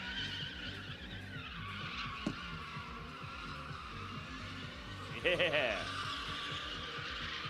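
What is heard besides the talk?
car doing drift donuts with skidding tires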